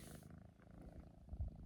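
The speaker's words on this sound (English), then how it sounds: "Can y'all hear her purring?" Biscuit, a pet cat, purrs very close and quietly outdoors on a mild day, a soft continuous low rumble that pulses gently with her breathing, with no talking.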